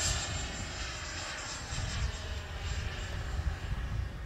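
An FMS Integral 80mm RC jet at full throttle climbing away, a steady whooshing ducted-fan roar with a thin high whine, fairly loud and slowly fluctuating as it moves off, with no talking.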